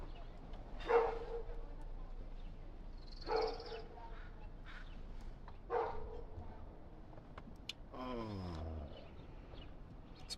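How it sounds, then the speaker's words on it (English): Several dogs bark in the distance at irregular intervals, with occasional single woofs and a drawn-out yelp over quiet outdoor ambience. "Some dogs barking."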